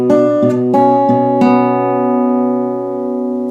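A single bar of a song on solo guitar, several quick fingerpicked notes struck in succession before one final chord that rings out and slowly decays, close and clear with no voices.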